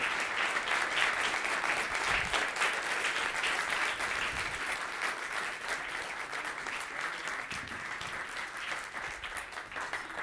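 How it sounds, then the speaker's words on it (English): A crowd at a Rotary performing arts competition gives the committee sustained applause, a dense, even wash of many hands clapping that stays loud throughout, with no speech over it. "So again, please give them a round of applause for their time."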